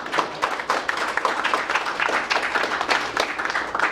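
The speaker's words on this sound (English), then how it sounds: "I think we should give Chris a round of applause." A conference audience gives Chris a round of applause, dense and fairly loud clapping continuing evenly from start to finish.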